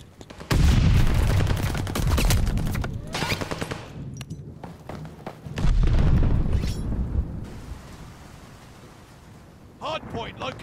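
Heavy gunfire and explosions crash around a contested hardpoint in a competitive shooter game, with dense bursts, loud booms near and far, and a brief lull before another burst; voices call out between shots.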